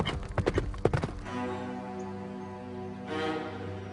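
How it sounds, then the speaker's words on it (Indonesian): Hooves of a galloping horse clatter in a quick burst of loud clip-clops, then give way to a sustained droning tone that carries to the end. "Naik kudanya seperti kesetanan."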